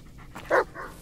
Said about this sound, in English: Call the dog.